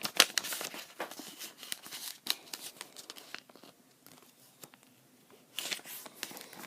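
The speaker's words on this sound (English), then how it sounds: "Then open it up, fold that edge there to the middle." Sheets of paper are creased and folded into an origami bird, producing crisp, irregular crinkles and rustles in close, quiet bursts with short pauses between them.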